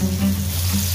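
Chicken pieces coated in corn starch deep frying in hot oil over high heat, a brief, steady close sizzle and bubbling with no talking.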